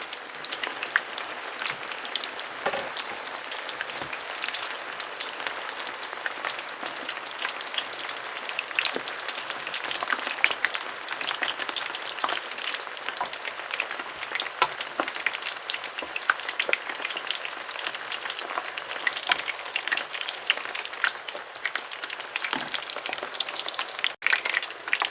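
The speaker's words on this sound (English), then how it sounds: "Fry it till it change color to brown." Plantain slices for tostones deep frying in hot oil, a steady dense crackling sizzle with popping bubbles that carries on evenly throughout, fairly close and with no talking.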